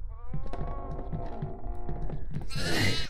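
Goats in the horror game DEVOUR bleat in a drawn-out, wavering cry lasting a couple of seconds, followed by a harsher burst, with faint voices under it.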